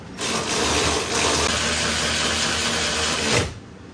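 A variable-speed power tool whirs steadily for about three seconds while tightening bolts on the suspension of a Lexus IS350F, a loud close buzzing that starts and stops cleanly.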